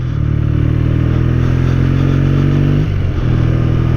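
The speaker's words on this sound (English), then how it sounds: "I'm out on my oil-in frame T140 Triumph Bonneville" An oil-in-frame Triumph Bonneville T140 rides along a country road, its engine holding a loud, steady drone with a brief dip near the end before pulling on, alone with no voices.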